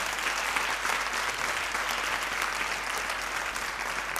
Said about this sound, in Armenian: Եկեք ծափարենք մեր երաժիշտներին.